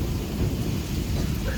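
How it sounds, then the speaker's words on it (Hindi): Heavy monsoon rain pours steadily with a deep rumble of thunder underneath, a dense, loud, continuous wash of sound with no voices. "इतनी खतरनाक बारिश और इतनी बिजली कड़क रही है कि बाहर जाने में डर लग रहा है"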